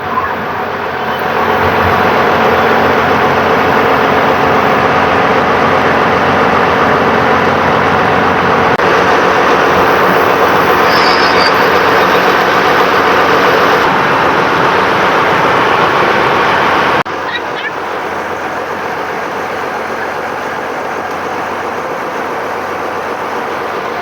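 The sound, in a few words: engine of a launch boat (ferry) on the river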